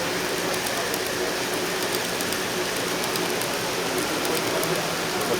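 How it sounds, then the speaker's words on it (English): A Kato GG1 N-scale model passenger train runs on a club layout, giving a steady, even rushing whir with faint rhythmic ticks, continuous and close at moderate loudness. "The GG1 running on the N-scale today."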